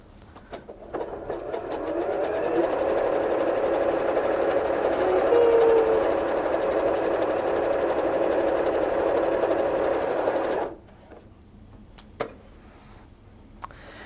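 A sewing machine stitching quilt strips runs in a fast, steady whir for about ten seconds and then stops, leaving a few faint clicks and handling sounds, close up.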